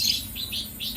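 A caged lovebird gives three short, sharp chirps in quick succession, close and clear over a soft background hiss.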